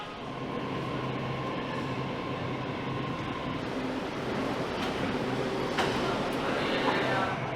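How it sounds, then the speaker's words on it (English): Steady rumble and rush of a brand-new Ho Chi Minh City metro train in motion, with a few squeaks and clicks, and faint voices in the carriage. "To ride these brand new trains, you can buy tickets from the ticket booth"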